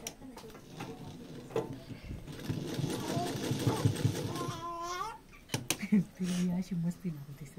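A sewing machine stitching a fabric corner, a fast rattling whir in a couple of short bursts, close by, with someone talking over and between the runs.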